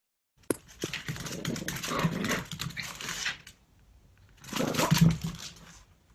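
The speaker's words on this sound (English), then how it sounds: "That's our dog." A dog indoors in an office makes two long, rough, breathy bursts close by, a whining, snuffling sound with a quieter stretch between, and no talk over it.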